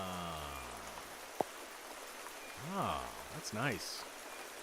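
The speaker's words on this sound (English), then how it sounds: "Oh, soothing rain sounds though." Soothing recorded rain sounds played during an evening live stream: a steady, soft hiss of falling rain with one sharp tap. A person speaks briefly over it.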